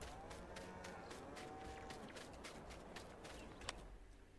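Cows moo in the farming video game Farming Simulator 19, a few faint drawn-out lowing calls over a steady rumbling background of farm machinery and ambient noise.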